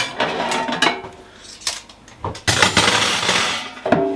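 Metal baskets of a budget double-stack air fryer are handled at close range, with repeated clanks, scrapes and clinks of metal on metal in uneven bursts, louder near the middle and again near the end, and no talking.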